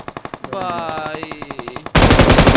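Rapid automatic gunfire in a battle royale mobile shooter match, loud repeated bursts of machine gun fire with a sharp rhythmic pattern, then an abrupt dense roaring blast of shots near the end.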